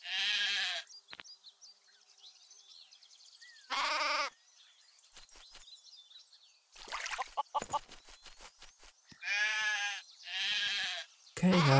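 Sheep bleat in the farm-building game Craft The World, several loud, wavering calls spaced across the scene, mixed with short clicks and brief bursts of game effects.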